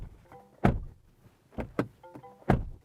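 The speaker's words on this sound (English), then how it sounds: "this is our door slam test" Three solid car door thunks from a 2023 GWM Ora Good Cat electric car, each preceded by a faint click of the handle, spaced about a second apart in a quiet setting.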